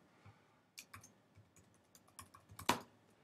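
Keys clack on a computer keyboard in an uneven run of light, close taps that end in one louder stroke, with no talk.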